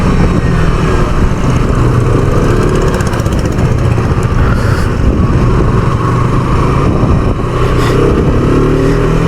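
A 2021 KTM RC 125 motorcycle being ridden on an off-road path, its engine a loud constant drone with slight rises in revs, mixed with wind rush and road rumble throughout.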